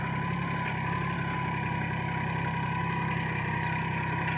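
A Swaraj Target 630 tractor, a 29 hp model, runs in a cotton field, its engine holding a steady, even drone throughout with no voices.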